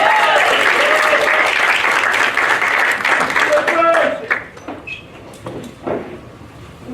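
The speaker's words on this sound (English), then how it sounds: "The audience heartily clapped." Audience at an evening literary reading event applauds heartily, a dense wash of clapping that holds steady for about four seconds before thinning into scattered claps and faint voices.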